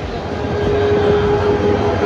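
A railway locomotive arriving at a station platform gives a loud, steady engine rumble with a sustained tonal whine, continuous and close throughout.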